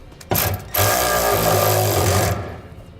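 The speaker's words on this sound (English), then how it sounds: "Then we'll use a 1/2 inch socket to tighten it down." A power tool with a 1/2 inch socket runs a nut down during a B and W fifth wheel hitch install on a 2014 Toyota Tundra, a loud whirring burst of about two seconds after a short blip.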